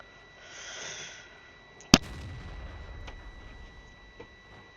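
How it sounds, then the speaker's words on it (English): A single sharp tank cannon blast in the World of Tanks video game, fairly faint, with a short rumbling tail and a few quieter distant thuds afterward. "shoot the Chibi, but get shot by an Indian Panzer on the hill"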